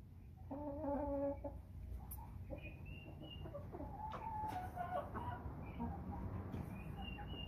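A flock of 14-week-old American Bresse chickens clucks softly in a grow-out pen, with a short burst of close clucking early on, then faint scattered calls over low background noise.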